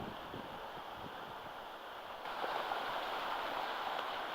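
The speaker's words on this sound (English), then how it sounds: "This is the first waterfall." A creek spills over a small waterfall near a pond, producing a steady broadband rush of flowing water that swells louder partway through, with no voices.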